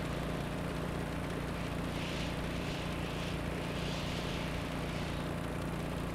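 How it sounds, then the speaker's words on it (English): A pink helicopter in the game Stormworks: Build and Rescue gives a steady, continuous rotor and engine drone at moderate level, unbroken for several seconds with no talk. "This pink chopper's better than we thought."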